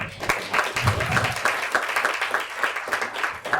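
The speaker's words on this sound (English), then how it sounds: "Round of applause, please, for András Balázs." Audience at a film cast and crew screening Q&A gives a round of applause, moderate steady clapping from a small crowd lasting a few seconds.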